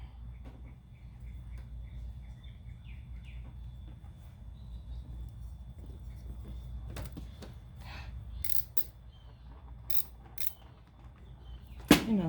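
Hand-turned screwdriver unscrewing a fitting at an awkward angle beside a washing machine, with soft ratcheting clicks and creaks over a low hum, then a few sharper scraping strokes and a final clunk.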